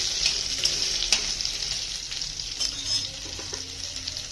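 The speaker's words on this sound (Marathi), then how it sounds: "बघा 2 मिनिटं वांगे असे चांगले त्याच्या तेलामध्ये परतले गेले छानपैकी असे" Eggplant pieces frying in oil in a pan for a green masala baingan dish, a steady hissing sizzle with occasional crackling pops, close and fairly soft, no talking.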